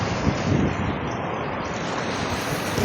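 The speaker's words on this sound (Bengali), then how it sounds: "আজকে আবার চলে আসলাম সমুদ্রের পাড়ে" Steady broadband roar of wind and sea surf at a seashore, continuous and fairly loud with no distinct wave breaks, no voices.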